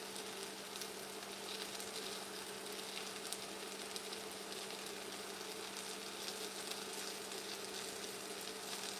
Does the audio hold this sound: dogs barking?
no